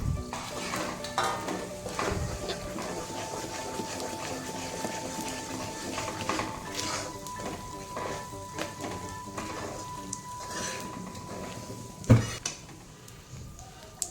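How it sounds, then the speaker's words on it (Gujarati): Wheat flour sukhdi mixture with almond powder and spices being stirred in a pan, giving a steady scrape with scattered metallic clinks of spoon on pan over a faint continuous tone. "પછી સારી રીતે મિક્સ કરી લેવાનું છે બધું"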